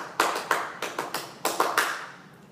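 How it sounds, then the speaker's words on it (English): Tap shoes doing a wings sequence on one foot: scrape, inward brush and step down, a crisp pattern of sharp clicks and scuffs in quick groups of three, close and clear with no voices. "after you've gotten your foot out with a scrape, is a brush inward, and the third sound is a step down"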